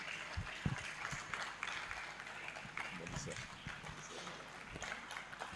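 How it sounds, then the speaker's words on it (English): Audience applause for the Most Reverend Dr. Matthew Hassan Koka at a memorial lecture, a dense, steady wash of clapping hands filling a large hall for several seconds, with scattered louder claps and some crowd murmur underneath. "Please, a round of applause for him."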